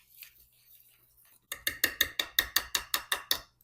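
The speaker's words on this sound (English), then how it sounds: "And now we're going to whisk this in." A batter of muffin mix is whisked in a bowl, starting after a quiet pause with about a dozen quick, even, rattling strokes against the side, close and fairly loud.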